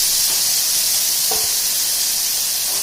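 Hilsa fish masala hits a hot wok with a steady, close sizzle and hiss that runs the whole time at an even level, with a small clatter partway through.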